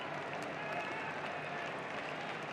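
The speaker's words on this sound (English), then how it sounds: "I don't know if you can hear the crowd noise in the background like we can" Arkansas fans at a college baseball game make a steady, distant wash of crowd noise with scattered clapping, a continuous murmur with no distinct peaks.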